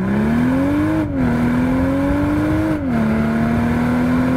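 A stock-exhaust 2023 BMW M340i launches hard from a standstill, its engine note climbing steadily and loud, dipping briefly at two quick upshifts before pulling strongly again.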